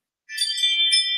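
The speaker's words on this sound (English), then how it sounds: "That's my phone telling me that someone's driving past my house." A phone notification chime from the Ring doorbell app sounds once after silence: a brief, bright, bell-like tone that rings clearly on its own.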